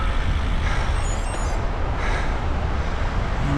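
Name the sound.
traffic with a truck reversing in Bédoin, Mont Ventoux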